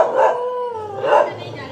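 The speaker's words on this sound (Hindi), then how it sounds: "लुक इतना भौंक रहे हैं।" Dogs bark and howl in a short burst, two drawn-out yelping howls close by with a brief pause between them.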